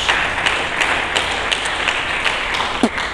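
Church congregation applauding during a sermon service, a dense wash of many hands clapping steadily throughout, with a few sharper individual claps standing out near the end.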